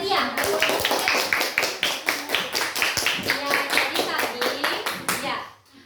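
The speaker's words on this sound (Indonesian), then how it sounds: "Tepuk tangannya meriah." Dense, steady hand clapping from a group of schoolchildren fills a classroom, loud and continuous for several seconds before stopping abruptly near the end; young voices chatter faintly underneath.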